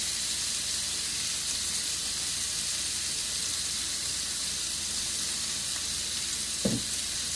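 A pork chop fries in a pan, giving a loud, steady sizzle that fills the whole stretch, with one brief clack near the end.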